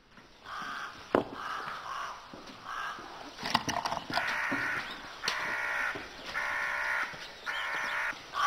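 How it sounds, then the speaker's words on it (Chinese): A crow cawing in the early morning, a series of loud harsh caws in an irregular rhythm, nearby and alone with no talk. "清早就听到乌鸦叫，晦气的。"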